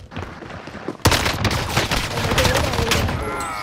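Rapid SMG fire in the Warzone battle royale game, a sudden loud burst that kicks in after a second and keeps rattling continuously to the end, with gunshot cracks layered close together.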